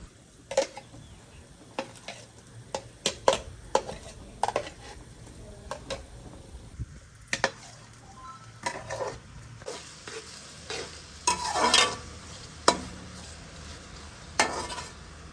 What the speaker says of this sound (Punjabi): ਹੁਣ ਜੀ ਅਦਰਕ ਲਸਣ ਦਾ ਪੇਸਟ ਹਰੀਆਂ ਮਿਰਚਾਂ ਇਹ ਚ ਪਾਵਾਂਗੇ